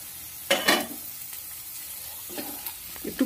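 Onions frying in a pan with ground cumin, chili, ginger and garlic paste, a continuous sizzle broken by a few sharp bursts of stirring and spattering.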